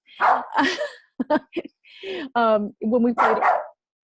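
A dog barks several times close by, sharp yelps and barks in a short irregular burst.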